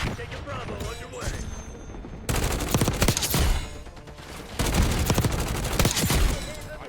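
Call of Duty: Black Ops 6 multiplayer match using a Grau / Swat 556 loadout, with loud, rapid bursts of automatic gunfire in repeated volleys and a voice talking underneath.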